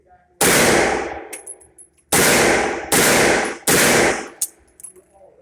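Master Piece Arms 9mm MAC firing its last rounds at a range: four loud, close single shots with sharp metallic ringing and short decays, separated by uneven pauses.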